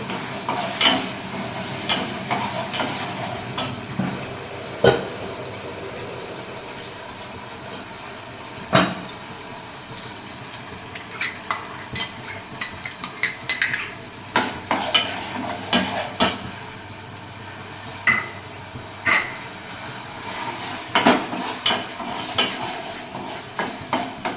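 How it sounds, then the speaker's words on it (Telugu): Ground onion, ginger, garlic, coriander and cumin masala frying in a pot, with a constant sizzle and repeated close stirring scrapes and clinks of a spoon against the pan. "అందులో అది మిక్సీ కొట్టిన ఉల్లిపాయ అల్లం వెల్లుల్లి ధనియాల జీలకర్ర వేసిన మసాలా వేసి వేసుకోవాలి"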